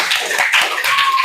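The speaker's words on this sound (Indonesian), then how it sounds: "Tepuk tangan dulu." Loud, close applause from a classroom audience, a dense patter of many hands clapping continuously through the whole moment.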